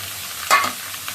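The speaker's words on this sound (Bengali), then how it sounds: "তো কালো জিরাটা ভাজা হয়ে গেছে, এবার আমি মাছগুলো ছেড়ে দিই" Fish dropped into hot oil with fried black cumin and fenugreek gives a short, close sizzle and splash that quickly settles into a soft frying hiss.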